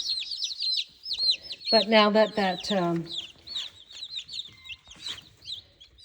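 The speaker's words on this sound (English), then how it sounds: "that chicken right there has had a couple of drinks of water, he should be okay" Young chicks under a heat lamp peep and cluck continuously in repeated high chirps close by, with a brief burst of louder clucking midway and a few words of talk.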